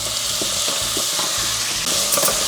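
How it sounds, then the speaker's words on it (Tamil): Onions and tomatoes sautéing in a hot pan, a dense close sizzle with rhythmic stirring scrapes every fraction of a second. "இந்த தக்காளி நல்லா வதங்கட்டும்"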